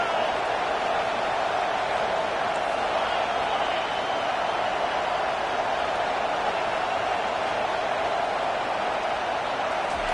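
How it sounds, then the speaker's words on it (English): Stadium crowd roaring in a college football video game, a steady broad wash of noise that holds at a loud level throughout with no breaks. "This crowd rising up, sensing that its defense needs some help."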